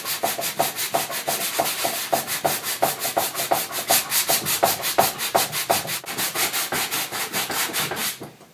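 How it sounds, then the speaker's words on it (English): Rhythmic back-and-forth hand sanding on a plastic car bumper during repair, steady rasping strokes about twice per second, close and alone. "And whenever I'm sanding this, you want to be sure not just sand in one direction"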